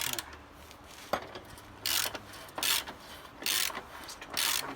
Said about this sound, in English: Just torque it down from this side.